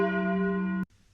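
One deep, ringing bell tone holds steady with rich overtones, then is abruptly cut off, leaving near silence.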